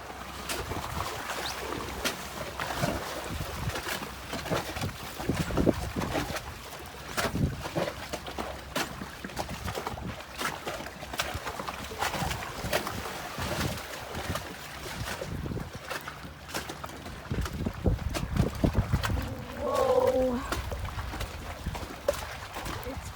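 A Nordhavn 40 trawler pounds through choppy, freezing Arctic outflow water with repeated splashing thuds and spray, mixed with gusty wind buffeting the microphone and a low engine rumble.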